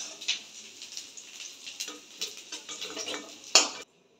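Fried cauliflower florets are lifted out of a frying pan with a metal utensil, giving scraping clinks over a faint oil sizzle, closing on one sharp, louder clank before the sound stops.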